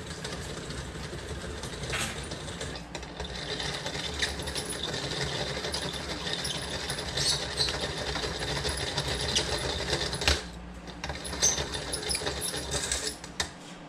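A fishing line spooling tool winding line onto a reel, giving a continuous close whirring rattle with a steady mechanical chatter that runs throughout, with no speech.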